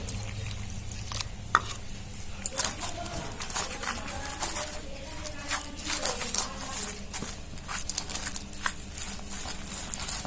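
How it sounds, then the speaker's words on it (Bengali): Flour batter being mixed with small additions of water, a utensil stirring and tapping against a bowl in a steady irregular patter, close and fairly quiet, with faint background sounds and no talk. "এভাবে অল্প অল্প জল দিয়ে আমি ব্যাটারটা বানিয়ে নেব।"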